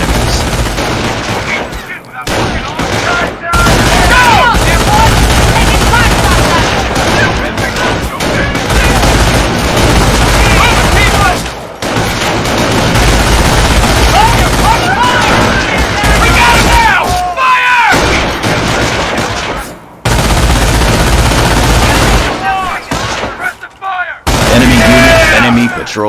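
Squads fighting an enemy patrol in Company of Heroes produce sustained, loud rifle and machine-gun fire with booming impacts, continuous rattling bursts over about twenty-five seconds and brief lulls.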